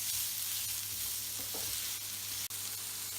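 Three sliced onions sauté in a pan for butter chicken, making a steady close sizzle with a few soft stirring scrapes partway through and one brief sharp knock near the end.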